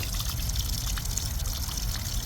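Water and chunks of sediment pour steadily from a water heater tank through its drain valve opening, a continuous gushing trickle close by.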